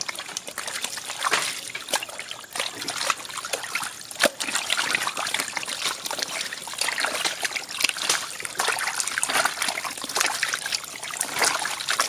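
Water trickles and splashes steadily into a pot at a Filipino street food stall making beef goto soup, a continuous close pour with faint background bustle.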